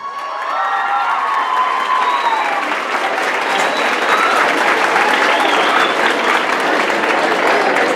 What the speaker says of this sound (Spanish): Un fuerte aplauso, por favor, para ellas.